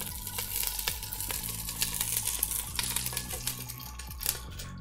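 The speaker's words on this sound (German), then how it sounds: "Und rösten kurz nur den Knoblauch." Garlic roasts in a hot pan on steady high heat, giving a continuous close crackling sizzle with scattered sharp pops and some clinking throughout.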